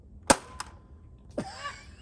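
A Nerf Rival Curve Shot Helix blaster fires angled downward: two sharp, close pops in quick succession, followed a moment later by a brief voiced sound.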